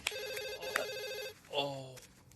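A telephone bell rings in repeated bursts indoors, fairly faint, with a brief electronic tone near the end and no talk.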